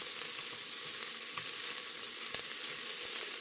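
Garlic and ginger paste fries in a pan with a steady, close sizzle, broken by a few soft scrapes as it is stirred; no one speaks.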